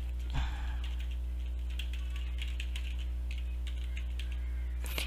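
A password is typed on a computer keyboard in quick, uneven runs of light clicky keystrokes over a loud constant electrical hum. A sharper knock comes near the start and another near the end, and there is no talking.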